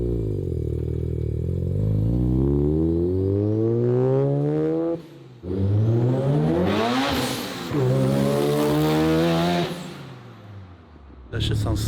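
A Chevrolet Corvette C5 engine revs hard close by, climbing through repeated rising pulls with brief drops between gear shifts and a loud roar that ends abruptly, with people talking under the noise.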